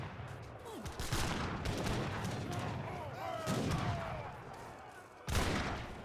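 Siege artillery and mortar fire from an Age of Empires III treaty match, a dense run of booming shots and impacts that carries on steadily, with a sharp loud blast near the end and a faint voice underneath.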